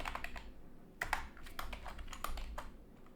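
Quick bursts of clicking keys on a computer keyboard while writing game code, close and fairly quiet, in uneven clusters of keystrokes with no talk.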